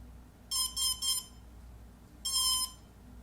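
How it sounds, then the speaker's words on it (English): Two bursts of high electronic beeps ring out from an F450 quadcopter drone as its battery is plugged in, first a quick triple beep, then one longer tone, over a low steady hum. "Plug in your battery. You'll hear a tone. Beep beep."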